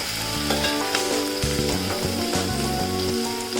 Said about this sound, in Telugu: దంచుకున్న వెల్లుల్లి పచ్చిమిర్చి ఆనియన్ కరివేపాకు వేసి లైట్ గోల్డెన్ కలర్లో ఫ్రై చేసుకోవాలి